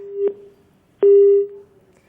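After a live news phone call with a reporter drops, the telephone line gives two steady tones: a short beep, a pause, then a longer one. The tones are clear and alone, with no voices.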